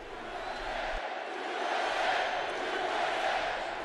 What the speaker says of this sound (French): Acclamé par la foule, c'est tout sourire que Donald Trump arrive à son pupitre.